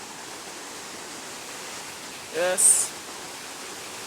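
A forest waterfall rushes as a steady, even hiss throughout, while someone briefly speaks over it near the end.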